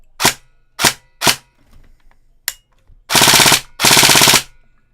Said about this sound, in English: Test fire.